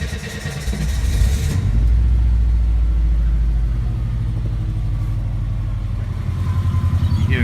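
Subaru Kombi engine cranking briefly, then catching and settling into a steady, loud low rumble close by, with no talk over it.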